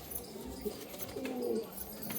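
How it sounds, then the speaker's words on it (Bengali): A pigeon coos softly close by in a few low, throaty murmured calls against faint background noise. "পায়রা খুব ছটপটে, হাতে থাকতে চাইছে না"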